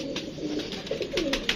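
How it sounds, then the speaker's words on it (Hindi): A female pigeon coos in soft, low, rolling calls, several short murmuring phrases close by over a steady background hiss. "नहीं जी दोस्तों ये कबूतरी है"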